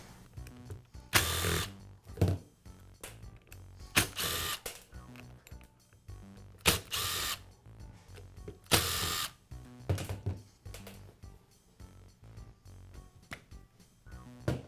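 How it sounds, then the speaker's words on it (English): A Makita angle grinder's spindle assembly being taken apart by hand for an O-ring replacement: close, intermittent metallic clicks, clacks and ratcheting bursts of tool work, with short pauses between handling noises. "I'll begin by removing the grinder's spindle assembly."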